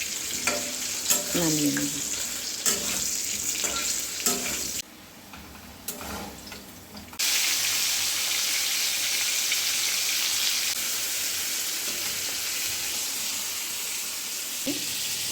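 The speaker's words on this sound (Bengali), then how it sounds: "এই যে আলু কটা ভেজে নেব" Potatoes frying in hot oil in a home kitchen, a continuous close sizzle with stirring clatter, growing louder and steadier partway through; a voice speaks briefly near the end.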